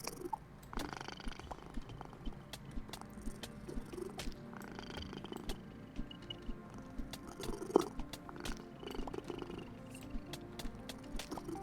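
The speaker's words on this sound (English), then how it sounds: "Sounds like a little kitty snoring." Domestic cat purring close up, a soft, steady rhythmic rumble carrying on throughout with a few small clicks and rustles, fairly quiet.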